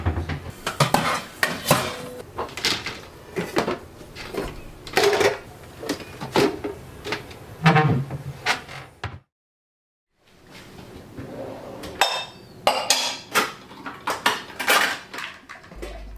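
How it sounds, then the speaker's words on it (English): Leftover rice being scraped out of a rice cooker pot before the cooker is washed, giving close, busy clattering of utensils and metal with a brief silent break partway through. "I'm going to remove that from the rice cooker and wash the cooker for the next use."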